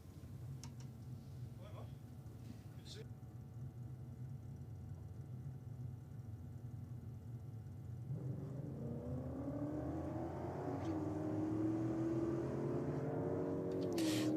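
A Holden VL Calais launches off the start line at a drag strip, its engine note climbing and revving louder from midway through. Commentary is heard over the engine.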